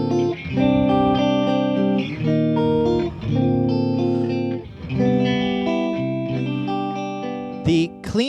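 Electric guitar played clean through a Fuchs Overdrive Supreme amp on the neck pickup in single-coil mode: a bright, sustained sequence of ringing chords and notes, close and clear, ending with a brief pick scrape.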